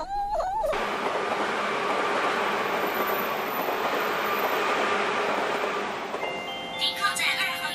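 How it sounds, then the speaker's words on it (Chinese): An electric train pulls away from a station platform, a steady loud rumble of wheels and motors that rises and holds. Near the end it gives way to thinner tonal whines and faint clatter. "停靠在二号月台上的电车马上就要开了。"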